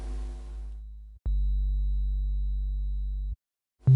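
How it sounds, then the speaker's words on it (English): A plain sine-wave bass note from the CS Bass One synth's init preset plays as a single pure, steady low tone, held for about two seconds and then cut off, with brief synth sounds before and after it. "This gets you a very basic sound, as you can hear. It's basically just a sine wave"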